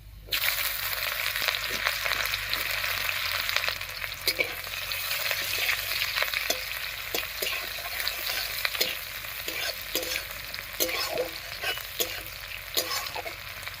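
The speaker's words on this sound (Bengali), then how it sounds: "ফোড়নটা ভাজা হয়ে গেছে এবার এর মধ্যে দেব পেঁয়াজ কুচি" Chopped onion frying in hot oil over tempered dry red chillies, a close, steady sizzle broken by frequent scraping stirs and crackles for about fourteen seconds, with no voices.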